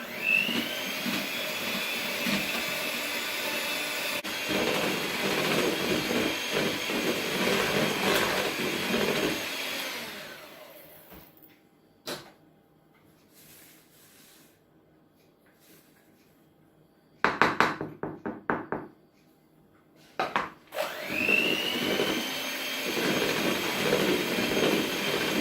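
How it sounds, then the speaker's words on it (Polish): An electric mixer whirs steadily while beating eggs with sugar, and flour is added gradually. It cuts out for a stretch of quieter clinks and handling, then starts whirring again near the end. "do jajek wsypujemy cukier i ubijamy"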